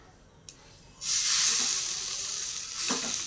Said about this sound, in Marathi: गॅसवरती मी चव बाजूने थोडं तेल सोडून घेते थालीपीठ टाकून घेऊयात